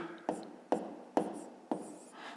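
A pen writing by hand in a notebook: four distinct tapping strokes at a steady rhythm, each followed by a short scratch, close and quiet, with soft talking around them.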